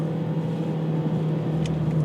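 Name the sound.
car engine driving on road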